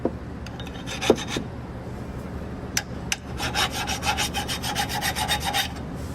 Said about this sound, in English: So not even 10 seconds of filing, just the edge, we got it on.